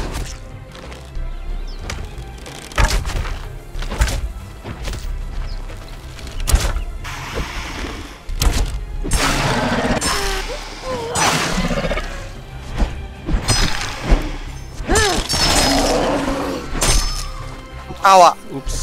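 Two players in the video game Conan Exiles fire at animals together, producing sharp thunking shot and impact sounds. The hits are scattered through the clip among game noises, with people talking over them.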